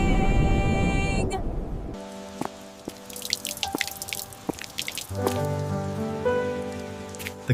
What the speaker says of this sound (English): Look, the rain is